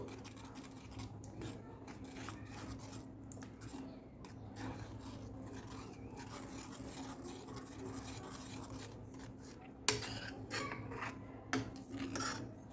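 A spoon stirs crushed rock sugar into coconut milk with a soft, continuous scraping and rubbing, faint and close, and a few sharper knocks come near the end.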